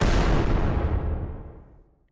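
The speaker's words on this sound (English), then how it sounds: "So now it's explosions happening like underground." Explosion sound effect treated with heavy reverb to sound underground: one deep, rumbling blast that starts loud and decays smoothly over about two seconds into silence.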